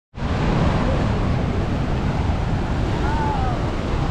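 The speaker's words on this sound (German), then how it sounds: "am Rheinfall, ganz viel Wasser zurzeit," The Rhine Falls thunders with very high water, a dense, steady roar that starts abruptly and holds at full loudness throughout, close and unbroken, with no voices.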